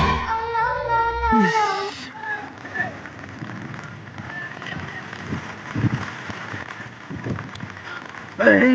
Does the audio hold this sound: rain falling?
yes